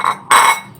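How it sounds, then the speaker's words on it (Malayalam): A cooking pot is turned over with a sharp metallic clink, a single bright ringing knock that fades quickly. "ചട്ടി നമ്മൾ കമത്തി"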